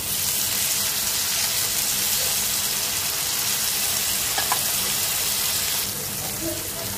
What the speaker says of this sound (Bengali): এখন এটার মধ্যে টমেটো দিব